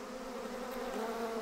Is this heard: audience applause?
no